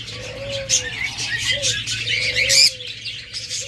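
A pair of pet lovebirds or budgerigars in a seller's cage give short, repeated chirps and squeaky calls over a steady low background hum, fairly close and moderately loud.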